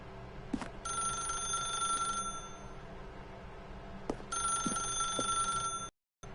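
An old-fashioned telephone bell rings in The Stanley Parable Ultra Deluxe, two long bright trilling bursts separated by a pause, loud and clear over a quiet ambient hum before cutting off abruptly.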